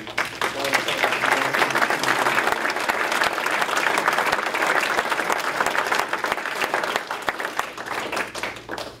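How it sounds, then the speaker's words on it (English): A city council audience applauds at length, dense steady clapping filling the room at moderate loudness before tapering off at the end. "if you would lead us in a round of applause"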